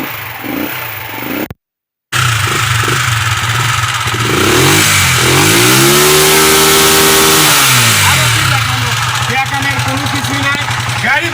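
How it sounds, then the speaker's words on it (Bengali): A car or pickup engine at a showroom starts up after a brief gap, then revs up and down in rising and falling sweeps, loud and close, settling into a steady idle. "তুমি গাড়িটা একটু স্টার্ট করে দাও"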